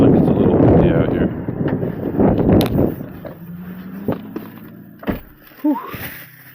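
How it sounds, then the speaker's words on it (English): Strong wind blows outdoors on a snowy day, a rough, gusty roar buffeting the microphone that is loudest at first and then eases, with a few faint voice sounds. "It's so windy still"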